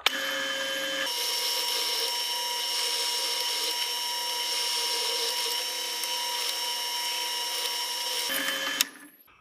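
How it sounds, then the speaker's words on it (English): A power drill bores tuner holes in the wooden cigar box of a homemade guitar, one continuous loud whining grind running near the mic for about seven seconds before spinning down abruptly. "I'm going to go ahead and drill the holes out for those as well"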